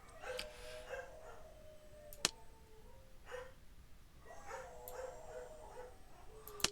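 Dogs in the video game Caribbean Legend whine and cry in the background, a string of thin whimpers and yelps with a couple of sharp clicks, fairly faint and with no voices over them.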